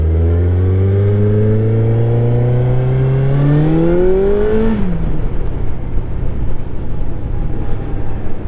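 A motorcycle engine roars through a steady, rising rev as it accelerates on a road ride, loud and close, then settles into a constant drone with wind noise.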